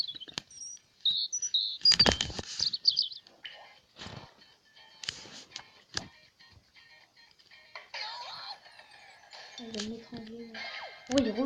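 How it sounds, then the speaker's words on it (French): A European robin singing nearby: thin, high warbles and trills in irregular bursts, with a few lower sounds toward the end. "rouge-gorge"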